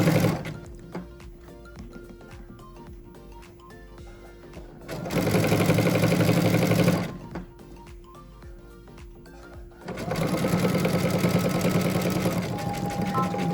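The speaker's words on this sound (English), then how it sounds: "just keep your ends together, your sides, and just sew it up right to the corner" Two loud bursts of a sewing machine stitching the sides of a fabric tissue box cover, each running about two to three seconds, with a quieter pause between and a voice talking softly underneath.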